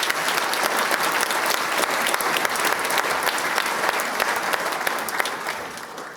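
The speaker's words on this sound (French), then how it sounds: "On va de nouveau vous applaudir" An audience applauds steadily at a mayor's 2024 New Year greetings ceremony, a dense, loud and continuous wash of clapping that holds for several seconds and eases slightly at the end.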